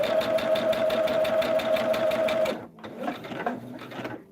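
A sewing machine stitches a table runner in a steady rapid run, then slows to a looser, uneven chatter near the end, loud and close with no talk.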